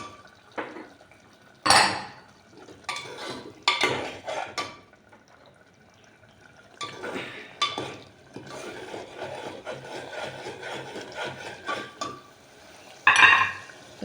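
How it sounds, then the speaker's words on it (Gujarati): Peas and then potato pieces tumble into a cooking pot for Kathiyawadi-style veg yakhni pulao, giving a few sharp scraping and clattering bursts between quieter stirring and rubbing against the metal. "હવે નાખશું એમાં વટાણા, પછી નાખશું બટેકા"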